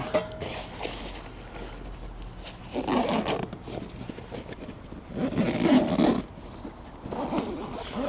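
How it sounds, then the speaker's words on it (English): A zipper is drawn along the Cadac Chef 50 BBQ carry bag in a couple of long scraping passes, close and fairly loud, with quiet handling noise between the pulls. "We're then going to zip it up"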